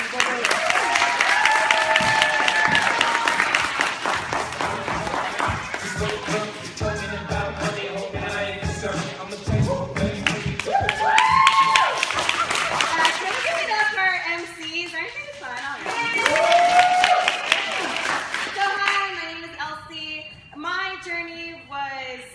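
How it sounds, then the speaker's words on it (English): Audience applause for Elsie at a SacTown Fitclub wellness workshop: steady clapping fills the room for several seconds, mixed with voices and cheering, then thins out as talk carries on. "So please give her a round of applause for Elsie."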